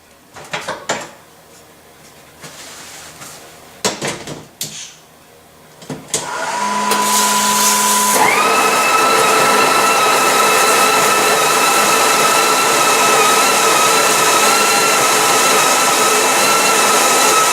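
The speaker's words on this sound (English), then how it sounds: "I'm going to do the whole purge and grind and tamp." A Breville Oracle espresso machine purging and grinding coffee: clicks and handling knocks come first, then a short purge hiss and a loud, steady grinder whir that runs to the end.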